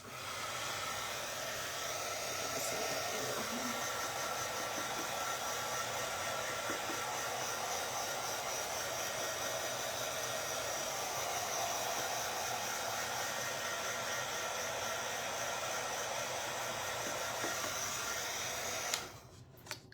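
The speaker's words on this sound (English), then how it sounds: "I'm going to use my drying tool to dry this real quick." A heat drying tool blows steadily on wet craft paint, a loud continuous hiss and whir held for about nineteen seconds before cutting off abruptly near the end.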